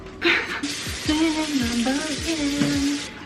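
A brand-new classic bundt pan being rinsed under steady running water, a continuous hiss near the microphone, with someone talking over it.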